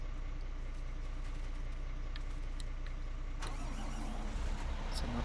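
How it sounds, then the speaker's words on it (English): A tractor's engine in Farming Simulator 19 cranks and fires up partway through, settling into a steady mid-pitched running rumble over a low background hum, with no speech. "so as soon as you turn on the engine,"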